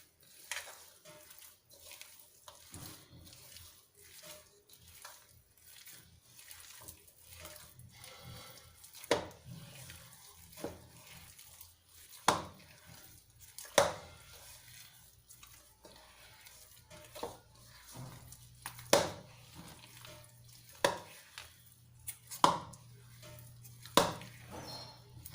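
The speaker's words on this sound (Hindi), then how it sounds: "और अब हम इसको अच्छे से मिक्स करेंगे।" Semolina vada batter with salt stirred and mixed by hand in a bowl, soft repeated scraping and slapping strokes with occasional louder clinks of the spoon against the vessel, close and fairly quiet.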